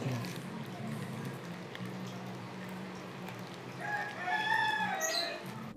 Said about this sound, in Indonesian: di sini tuh jangan heran ya suara-suaranya. Ada ayam, ada burung